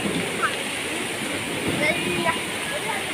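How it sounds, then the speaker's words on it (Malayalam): Water falling in a garden waterfall at Bangalore airport, a steady splashing rush with bright trickles, close and continuous. "വാട്ടർ ഇങ്ങനെ വെള്ളം വീഴുന്നുണ്ട് വെള്ളച്ചാട്ടം ഉണ്ടോ"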